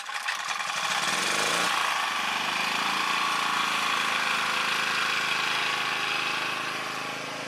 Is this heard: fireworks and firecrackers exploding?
no